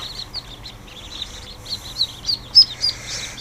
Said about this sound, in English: Look at this for a whole whack of ducklings.